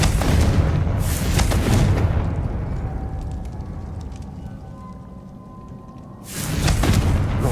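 A Confringo fire spell explodes in a Harry Potter-style wizarding video game, a loud roaring burst that tails off into a quieter hum, then a second heavy blast near the end.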